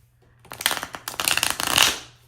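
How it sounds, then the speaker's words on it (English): A deck of tarot cards being shuffled by hand, a close, rapid run of papery flutters and slaps lasting about a second and a half, heard alone before fading out. "Such a bad shuffle."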